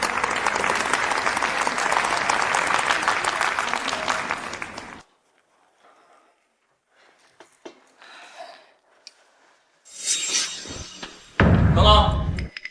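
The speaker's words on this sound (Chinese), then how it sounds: "掌声有请。" Loud, dense applause from an audience at a contract-signing ceremony, welcoming the group chairman and a project representative onto the stage. It runs steadily for about five seconds and then cuts off, followed by scattered thumps, movement and speech.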